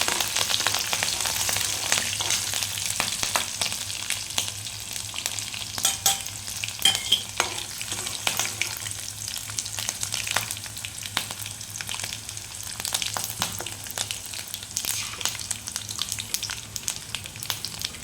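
Green chillies and curry leaves frying in oil with chana dal and urad dal for buttermilk upma, a steady close sizzle with scattered crackles and spatter pops that continue evenly throughout, with no talking.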